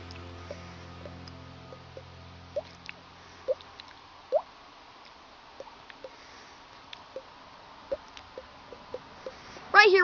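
Water drops imitated with the tongue and mouth: a steady series of small, hollow plinks about once a second, each crisp and close, over a quiet background.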